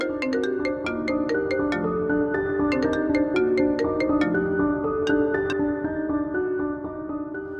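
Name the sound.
telephone ringtone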